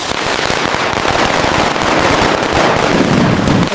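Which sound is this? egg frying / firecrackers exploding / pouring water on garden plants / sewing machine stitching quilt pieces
firecrackers exploding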